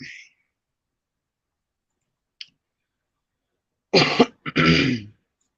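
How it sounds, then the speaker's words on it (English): After a long silence and a faint click, a single sharp cough hits close to the microphone, then a second rougher throat-clearing burst. "I didn't mean to cough in the mic."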